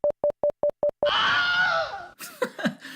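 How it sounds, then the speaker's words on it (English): A stock Wilhelm scream sound effect bursts out loud and alone after a run of short, evenly spaced electronic beeps, a long harsh yelling cry sweeping down in pitch, then trailing into rougher, broken vocal sounds. "Was that a Wilhelm scream?"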